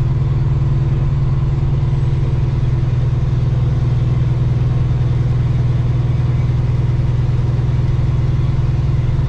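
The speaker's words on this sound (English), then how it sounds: "Kind of hard to do with this truck when I got a heavy load behind me climbing the hills." A heavy truck pulling a load up hills on a snowy night, its engine droning steadily with a strong low rumble that stays constant throughout, close and loud with no talking.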